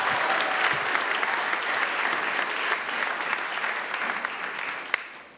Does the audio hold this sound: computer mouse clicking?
no